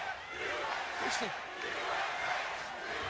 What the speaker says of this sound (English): the USA chants from the crowd